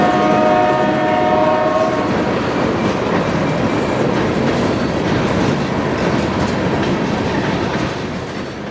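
A freight train on the Medley industrial lead in Miami rumbles past close by, its horn sounding at the start before steady rolling clatter carries on and slowly eases.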